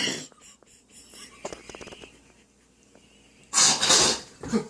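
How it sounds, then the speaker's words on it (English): A single loud sneeze bursts out near the end, preceded by quieter breathy sniffs and throat sounds. "I had to sneeze."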